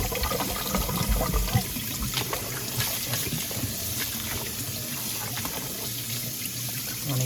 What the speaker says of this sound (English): just rinse your meat out real good in that vinegar water.